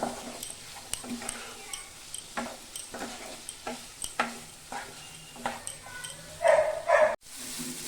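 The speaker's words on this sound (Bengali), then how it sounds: "আলুটা দিয়ে আমি আরেকটু ভাজবো।" Quiet frying sizzle of potatoes in spice paste under repeated scraping stirs of a spoon in a pan, coming at a steady rhythm, ending with a louder clatter.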